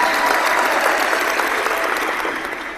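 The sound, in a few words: applause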